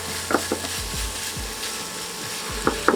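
Bacon frying in a pan over medium heat, a steady soft sizzle with a few faint clicks and scrapes from the pan.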